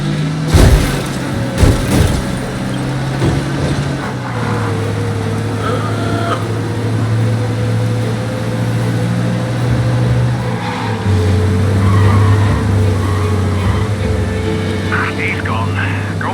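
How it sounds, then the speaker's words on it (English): Car in Mafia Definitive Edition speeding away from police, an engine drone that shifts pitch as gears change, loud and steady, with game dialogue voices over it and brief clunks near the start. "You lose them by driving real fast and get clear of them."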